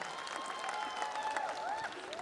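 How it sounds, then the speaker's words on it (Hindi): An audience at a kavi sammelan poetry gathering claps, a steady moderate round of applause with scattered sharper claps and faint background voices and tones. "एक बार जोरदार ताली अपने लिए आप लोग बजाइए"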